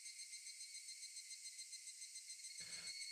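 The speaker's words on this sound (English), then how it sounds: "Only the cry of the cicadas remained annoyingly loud." Cicadas in a Higurashi visual novel game make a continuous, shrill, pulsing buzz that holds steady at a moderate level throughout, with a brief low thud near the end.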